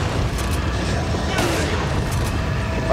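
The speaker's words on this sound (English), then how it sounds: "shotgun time" Shotgun blasts in Resident Evil 4 burst out in a dense flurry of booming reports mixed with game noise, loud and close, with a heavy thump near the end.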